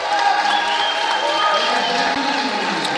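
Crowd noise rises steadily at a climbing championship lead final, a continuous dense wash of cheering from spectators in the arena, heard from a distance beneath the broadcast for the whole stretch without breaks.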